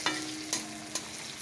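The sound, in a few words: bitter gourd (karela) frying in a pan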